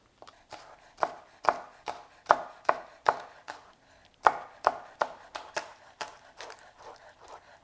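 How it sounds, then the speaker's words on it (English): Knife chopping scallion tips on a cutting board: a steady run of crisp, close taps, about sixteen strokes in an uneven rhythm with a brief pause midway, no talking. "Cut the tips of the scallion."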